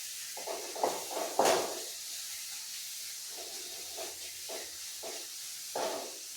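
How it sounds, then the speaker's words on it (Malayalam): Chopped onion and green chili sautéing in a pan for a Kerala-style kadala curry: a steady, quiet sizzling hiss broken by several brief stirring scrapes and clatters. "സവോള അരിഞ്ഞ് വെച്ചതും പച്ചമുളകും ഇട്ട് കൊടുക്കാം. ചെറുതായിട്ടൊന്ന് മൂത്ത് വരട്ടെ."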